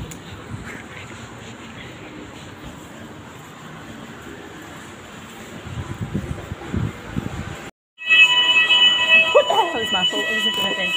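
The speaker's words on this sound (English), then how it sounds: "What's that going off for? Is that a fire alarm?" An alarm sounds inside a Tesco store: a steady high electronic tone persists over muffled shop ambience and nearby talk, then after a brief cut grows louder with several piercing tones layered together.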